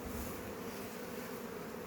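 Honey bees at a hive hum in a steady, dense, moderately quiet drone that stays even throughout, with no talking.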